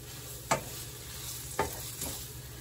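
Scrambled eggs sizzle softly in a frying pan while a utensil scrapes and stirs through them, giving a few sharp scraping strokes over a steady quiet hiss.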